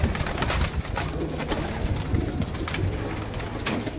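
Pigeons coo steadily inside a loft, several birds overlapping in a continuous low burbling murmur at moderate loudness, with no speech over it.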